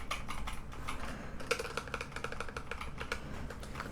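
Typing on a mechanical keyboard with smooth, light linear red switches, a steady run of fairly loud but not very clacky keystrokes in quick irregular rhythm, close by, with no talk.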